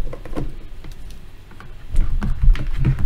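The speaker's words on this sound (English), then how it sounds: "I'm just clicking icons on my phone" Light taps and clicks on a phone's touchscreen icons, scattered and irregular at close range over a low background hum, with a busier cluster of taps toward the end.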